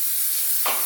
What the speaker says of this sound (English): Now I'm going to add some olive oil spray.